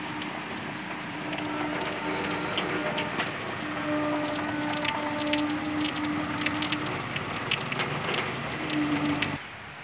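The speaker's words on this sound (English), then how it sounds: "Rain, rain, everywhere rain. Too much rain." Heavy monsoon rain falls steadily in Ankleshwar, a continuous dense patter and hiss with faint background tones and no voices, cutting off abruptly at the end.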